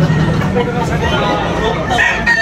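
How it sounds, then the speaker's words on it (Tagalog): Rooster crowing amid a busy Tabunok, Talisay poultry market, close and fairly loud over a steady hubbub of crowd chatter and other birds. "Gwapong manok."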